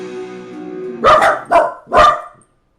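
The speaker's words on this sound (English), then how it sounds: "Should I take you out of the room every time you bark, Bo?" Dachshunds bark three times in quick succession, close and fairly loud, right after a short stretch of low background noise.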